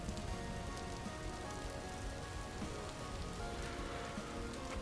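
Rain in the video game Vintage Story, a soft, even patter and hiss of drops on surfaces that continues steadily throughout, quiet and without speech.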